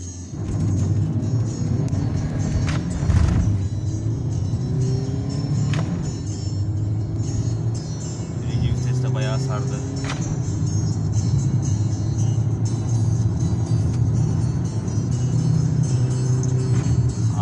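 A Fiat Linea 1.3 Multijet 95 hp diesel car accelerates hard from 0 to 100 km/h, its engine drone climbing in pitch through several short gears with brief dips at each shift, heard from inside the car.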